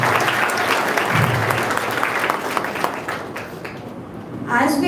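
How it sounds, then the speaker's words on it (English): Audience applauding at the closing session of an international college seminar on startups, dense clapping that gradually thins and fades, then a voice begins speaking near the end. "Give her a big round of applause"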